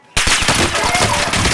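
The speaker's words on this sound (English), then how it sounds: "I'm taking fire." Rapid automatic gunfire in Call of Duty Warzone Pacific, a loud sustained burst of rattling shots that starts abruptly and continues without pause.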